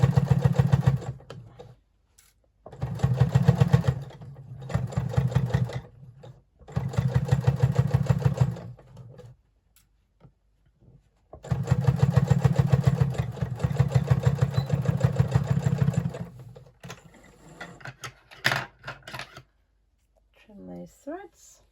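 A home sewing machine stitches through many thick fabric layers, running hard with a slightly thumpy, labored rhythm in several long bursts separated by pauses, with a person talking briefly in between.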